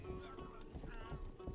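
Horse hooves clip-clopping with a short whinny in the video game Rustler, a brief quiet burst of hoofbeats and horse sounds.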